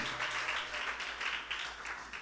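Steady, dense clapping fills a church worship service, an audience applauding together in a continuous, fairly even wash without pauses.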